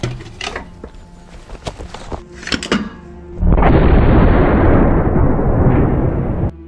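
Artillery fires rounds toward Russian positions in eastern Ukraine's war zone near Chasiv Yar. A few sharp, loud bursts ring out, then a sustained heavy roaring blast dominates the rest.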